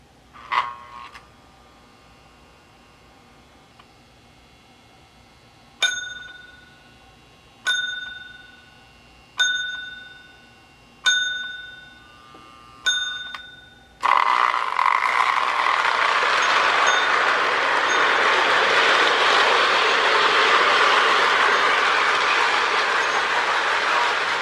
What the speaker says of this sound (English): So we'll start with the little switcher here with its bell.